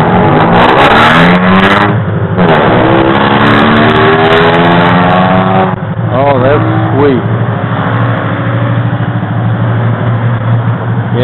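A Can-Am roadster's engine revs and climbs through the gears on a test ride, loud and close with repeated rising sweeps and brief dips at shifts, while a rider talks over the steady roar.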